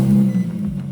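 A used manual-transmission car with 130,000 original miles cranks and starts, settling into a steady low idle hum. The sound is close and loud, with no talk.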